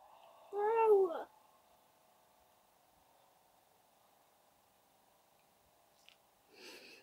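A single short cartoon cat meow from a Roblox game, sounding once near the start, followed by a quiet steady hum and a faint click and soft noise near the end.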